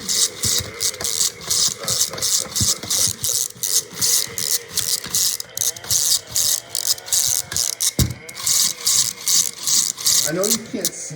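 A Transformers Optimus Prime toy plays its electronic saw sound effect: rapid, regular rasping ratchet-like bursts repeating throughout, with a brief voice-like warble toward the end.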